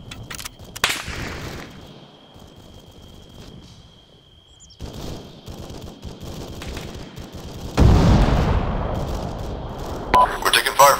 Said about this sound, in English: We're taking fire from the east